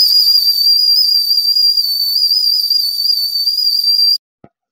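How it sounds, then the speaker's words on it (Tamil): A stovetop milk cooker holding half a litre of milk whistles on the stove, giving a loud, steady, high-pitched continuous whistle for about four seconds that cuts off abruptly, followed by a faint click. "அ ஒரு மாரி பொங்கி வர்றதுக்கு முன்னாடியே விசில் அடிக்க ஆரம்பிச்சிருது."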